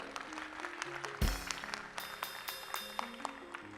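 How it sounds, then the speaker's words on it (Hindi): An audience claps at a devotional Dadi festival gathering in Kanpur. The clapping is faint and scattered, with sustained tones running underneath. "अब बजाओ ताली"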